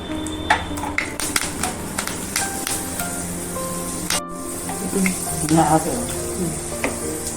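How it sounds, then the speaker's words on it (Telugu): Fenugreek seeds frying in hot oil in a heated kadai for a pumpkin curry: a continuous close sizzle with scattered pops and light metallic taps of a stirring spoon throughout. "బాండి వేడెక్కిందే ఆయిల్ పోసుకున్నాం మెంతులు వేసుకున్నాం"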